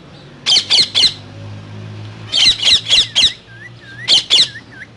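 A green parrot squawks in short harsh bursts, three calls, then a run of four or five, then two more, loud and close with brief quiet gaps and faint chirps between.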